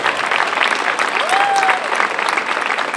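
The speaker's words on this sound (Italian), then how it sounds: "Un applauso." An outdoor crowd applauding at a prize ceremony for a sandal race at a folk festival, with dense, steady clapping throughout and a faint voice and whistle rising briefly in the middle.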